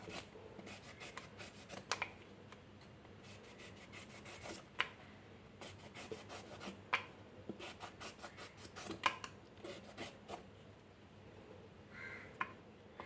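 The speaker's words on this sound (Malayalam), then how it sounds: "ഇതിൻ്റെ തൊലി നന്നായിട്ടൊന്ന് കണ്ടോ കട്ട് ചെയ്ത് കളയാം" A knife scraping and cutting the skin off a breadfruit, making close, quiet rasping strokes in clusters of short scrapes with pauses between them.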